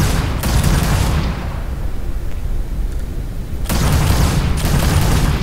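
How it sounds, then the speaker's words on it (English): Spaceship guns fire in Starfield, PBO-175 weapons and auto projectors unleashing loud dense bursts of rapid shots, pausing briefly in the middle before a second heavy volley resumes. "Firing four guns, but it looks like I'm firing two."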